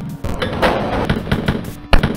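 Gunfire in the shooter Wolfenstein 3D rings out as a rapid series of sharp, loud bursts, several close shots in quick succession with a heavier blast near the end.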